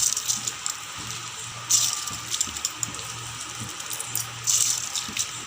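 Soaked, drained rice being added to a pot of boiling water for chicken biryani, a rattling pour and splashing over a steady background hiss of water.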